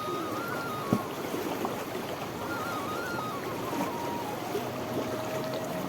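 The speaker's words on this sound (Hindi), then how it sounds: "देखिए फिर बारिश तेज हो गई है" Heavy monsoon rain pouring in the mountains near Rishikesh beside a swelling, fast-flowing stream, a continuous broad hiss and rush of water with one brief thump, steady and close throughout.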